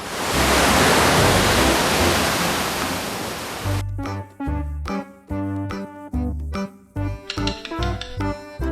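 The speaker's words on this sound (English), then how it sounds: "O for ocean." Loud, hissing surge of ocean waves breaking, a dense wash of noise lasting a few seconds before it cuts off abruptly and gives way to a bouncy musical jingle.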